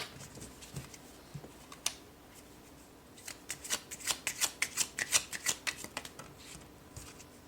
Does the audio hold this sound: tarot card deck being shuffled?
yes